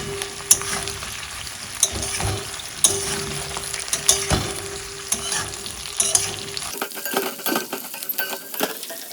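Capsicum and other vegetables for chilli chicken sizzle and crackle in a hot pan, with occasional metallic clinks of a spoon stirring against the pan, close and steady.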